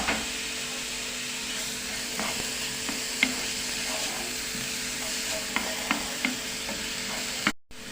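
Minced garlic and onion fry in two or three ladles of hot oil, a steady close sizzle with occasional stirring scrapes and clicks, ending in a sudden brief cut-out.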